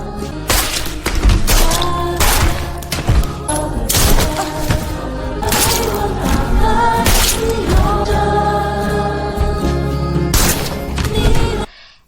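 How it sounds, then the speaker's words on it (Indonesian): Gunshots in an action film as followers are shot one by one: sharp, loud cracks every second or two, spread across the scene and mixed with a dense musical score. "Dordar, dordar. Satu persatu para pengikut ditembak."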